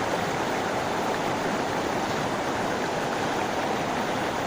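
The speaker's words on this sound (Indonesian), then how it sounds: "Airnya sangat deras." The swift Ciherang river near Mount Salak, Bogor, rushes over large rocks under threatening rain, a steady, loud, unbroken roar of turbulent water close by with no voices.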